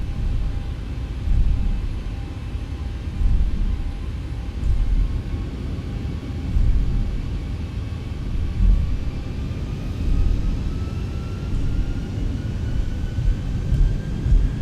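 Steady, loud low rumble of Boeing 737 jet engines (Zibo mod) during a crosswind takeoff roll in X-Plane, heavy bass roar with a slowly rising whine and gentle rhythmic swells, no talking.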